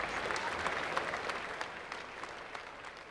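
A crowd at a 1985 Australia versus India cricket Test match applauds and cheers steadily as the bowler walks off the ground, a dense, sustained wash of clapping that fades slightly toward the end.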